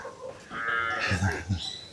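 Goats bleating at an animal sanctuary in India, a few short calls close by mixed with background voices and general farmyard noise.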